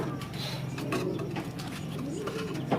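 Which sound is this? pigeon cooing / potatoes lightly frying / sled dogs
pigeon cooing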